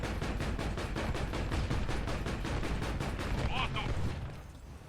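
The autocannon of a BTR-80A amphibious armored personnel carrier fires in War Thunder, a long rapid steady burst of evenly spaced loud shots lasting about four seconds before stopping.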